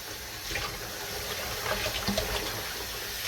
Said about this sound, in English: I'm going to go ahead and rinse it a few more times